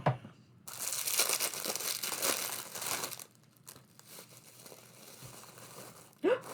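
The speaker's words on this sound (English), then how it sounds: "Once again, let's use scissors." Packaging being opened with scissors, giving a sustained crinkling, tearing rustle of plastic and paper that fades into quieter handling, then a short sharp crinkle near the end.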